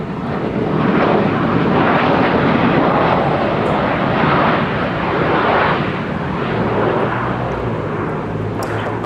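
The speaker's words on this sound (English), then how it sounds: "It's an A350 1000 that arrived from JFK." An Airbus A350-1000 jet arriving from JFK lands at Minneapolis–St. Paul Airport, a loud, sustained roaring engine rush with swelling surges, heard from nearby and without talk.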